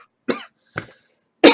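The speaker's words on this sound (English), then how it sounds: "God, just thinking about it makes me cough." A man coughs three times, each a short harsh burst separated by brief silences, the last one loudest, close to the microphone.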